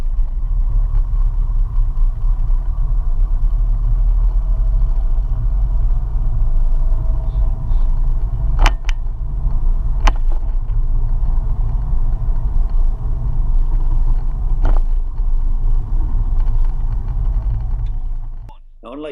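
A manual car creeping along dead slow on the clutch gives a low, steady engine rumble inside the cabin, with a few faint clicks and knocks over it.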